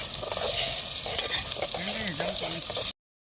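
Onions frying in oil for a Gujarati village-style dish give a steady close sizzle, with a faint voice murmuring in the background before the sound cuts off abruptly.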